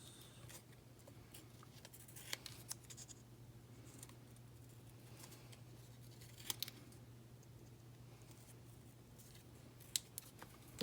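Scissors snip through paper craft pieces for handmade card making, with soft scattered cuts and a few sharper snips over a steady low hum and no voices.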